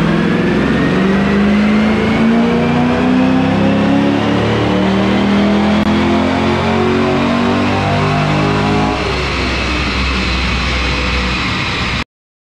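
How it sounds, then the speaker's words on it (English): A naturally aspirated LS3 V8 in a Camaro, running on E85, revs hard on a dyno, one long loud sweep with the engine note climbing steadily then dropping as it backs off near the end. "So let's see what this car does and what kind of power we gain on a naturally aspirated LS3."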